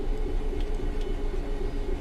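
Simulated Class 66 diesel locomotive from Train Sim World 3 running with the brake applied, giving a steady, loud low engine drone with a constant mid hum and faint hissing above, continuous and close.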